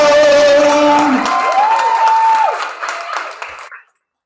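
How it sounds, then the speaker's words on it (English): An open mic audience claps for a spoken word performer walking to the stage, a dense burst of applause with a voice speaking over it that fades out near the end. "Keep clapping as she makes her way to the microphone."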